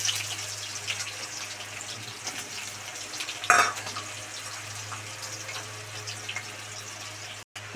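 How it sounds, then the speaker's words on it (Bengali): Chopped onion fries in hot oil in a kadai for a Bengali chicken kosha, giving a soft, continuous sizzle with a brief scraping stir partway through and no voices. "পেঁয়াজটা ভাজা হয়ে গেছে"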